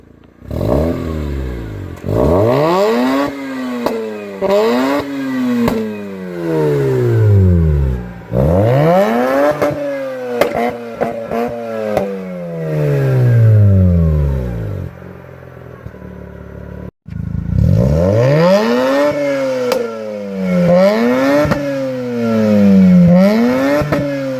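Mazda RX-8 rotary engine with a BHR midpipe exhaust revving hard in repeated rising and falling sweeps, loud and raspy, with a brief pause before another burst of revs.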